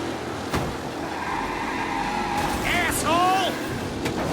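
Race cars roar and skid through a rough race in Mafia Definitive Edition, with engine drone, a sharp bang, and squealing tires sweeping past, while voices talk over it.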